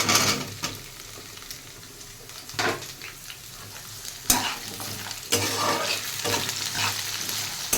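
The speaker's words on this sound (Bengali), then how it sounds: "আলুগুলো ভাজা হলে সবজিগুলো দেবো।" Potatoes sizzle steadily in a hot pan up close, broken by several louder bursts of stirring and scraping; nobody speaks.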